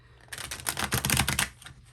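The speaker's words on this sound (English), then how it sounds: "So we'll go ahead and shuffle the cards." A deck of tarot cards being shuffled up close, a quick run of crisp riffling flicks and snaps lasting about a second, fairly soft and heard alone without talk.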